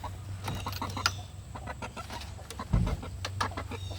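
Buff Orpington layer hens cluck in a farm yard, several birds close by with soft irregular clucks and a louder burst partway through, no talk.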